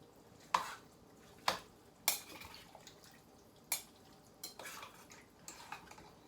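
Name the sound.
stirring a pot of thick chili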